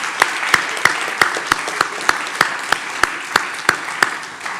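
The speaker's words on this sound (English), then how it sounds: "Give yourselves a round of applause," A seminar audience gives a round of applause, with sharp, evenly spaced claps standing out in a steady rhythm over a wash of general clapping that carries on throughout.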